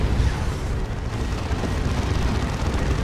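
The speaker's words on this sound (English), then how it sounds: "Really good tank buster barrage on that Carnifex." A tank buster barrage pounds a Carnifex in Dawn of War 2, a dense rumbling roll of overlapping explosions that stays loud and continuous throughout.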